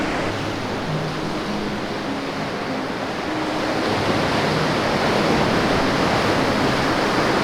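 Hawaiian ocean surf roars as a broad, continuous wash of breaking waves, growing slightly louder partway through, with a faint low hum underneath.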